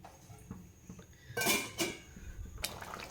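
A lid lifted off a pot of chicken changezi gravy in a home kitchen, giving a couple of sharp metallic clinks and scrapes close by, followed by a softer clatter, with no talking.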